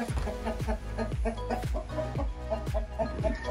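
Turkeys in a backyard coop give a quick, rhythmic series of close clucks, with a person speaking softly over them.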